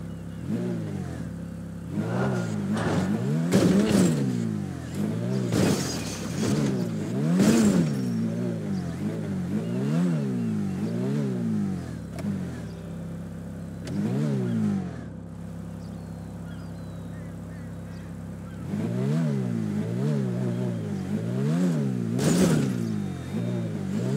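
Muscle car engine in GTA 5 revving repeatedly, with rising and falling pitch sweeps in quick bursts, loud and close, with brief pauses between revs.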